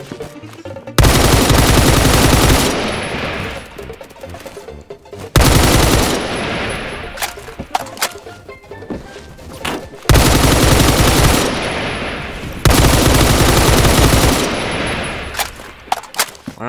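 Long automatic bursts from an RPK light machine gun in the video game Phantom Forces, four sustained loud volleys of roughly two to four seconds each, separated by brief pauses with scattered shots and clatter.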